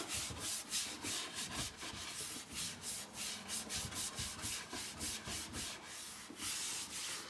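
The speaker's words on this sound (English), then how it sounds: "take the brush and kind of turn it on an angle there, and I'm going to really push the wax around, go in different directions" A brush pushes Annie Sloan clear soft wax around a chalk-painted surface in different directions, a steady close scrubbing rub repeating in quick strokes throughout, with no talk.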